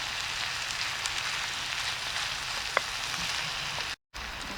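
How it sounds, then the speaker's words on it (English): Rice fries in a pan over a campfire for risotto, giving a steady, dense sizzle that holds evenly throughout with a single faint click partway through. "So just fry the rice in to start with, just to get some flavour to it"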